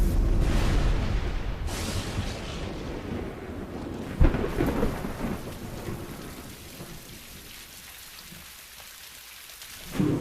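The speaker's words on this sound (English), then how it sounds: "Tropical storms lash the planet." Heavy tropical storm rain pours steadily while thunder rumbles and cracks, including a sharp close strike midway, before the downpour eases and swells again.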